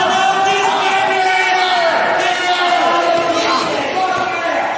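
A wrestling crowd at a tornado tag team deathmatch event cheers and roars continuously, a dense wall of voices with shouts rising and falling throughout.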